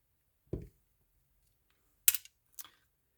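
Small screws being removed from an Abu Garcia Cardinal Custom Lite 2 spinning reel, three sparse, quiet clicks and light metallic ticks with near silence between them.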